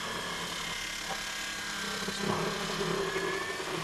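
Power tool routing out a fiberboard door at high RPM for a strike plate, a steady loud whine running throughout with a slight surge of cutting noise midway.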